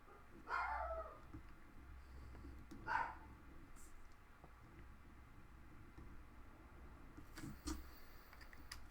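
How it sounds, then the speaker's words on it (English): An indoor dog barks at a vehicle outside, giving a few sharp barks and a later yip spaced across a quiet room, faint and at a slight distance. "Actually, he's probably barking at a vehicle outside."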